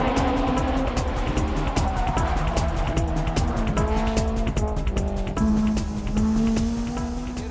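A turbocharged race car accelerates hard uphill with a loud, continuous engine roar and sustained tire squeal, close and steady throughout.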